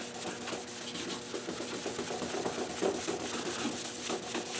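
Hand sanding a plastic headlight lens to remove clear coat and dead plastic, a continuous close scratchy rubbing with quick back-and-forth strokes, steady and fairly loud with no talking.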